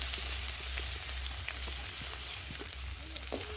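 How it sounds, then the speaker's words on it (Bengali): Garlic paste dropped into hot oil already holding whole cumin, dried red chillies and bay leaves, a soft continuous frying sizzle with faint crackles over a low steady hum, cooking outdoors at a family picnic. "একটু গোটা জিরে শুকনো লঙ্কা তেজপাতা দিয়ে দিলাম এবার ওর মধ্যে দিয়ে দিচ্ছি রসুন বাটা"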